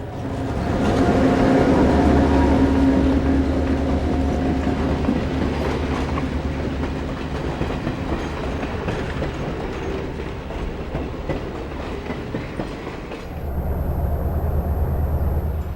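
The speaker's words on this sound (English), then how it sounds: "The short train remains on the New York Central route as it passes Alexis Tower" A B&O GP7 locomotive pulling a short C&O coach train on the New York Central route by Alexis Tower rumbles past with steady wheel clatter, loud and close throughout, easing briefly before the rumble returns near the end.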